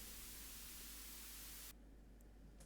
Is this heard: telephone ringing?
no